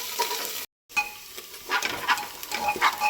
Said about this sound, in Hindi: इसमें डालेंगे मिर्ची और लहसुन जो हमने कूटी है, उसको अच्छे से फ्राई कर लेंगे